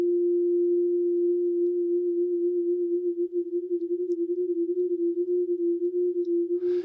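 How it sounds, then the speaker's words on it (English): A steady, pure sine wave tone, brought into a simple chorus effect that swaps it between left and right speakers. The pitch stays constant while the level begins to pulse and waver from midway on. "with this is a very simple chorus. Now we're just changing the left and right speaker, and on a sine wave."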